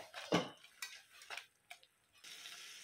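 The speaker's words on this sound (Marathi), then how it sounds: "दूध आटेपर्यंत हे आपल्याला हलवून घ्यायचंय" Bottle gourd halwa simmers in reducing milk while a spoon stirs the pan, giving a few soft, sparse clinks and scrapes against metal over a quiet, faint bubbling background.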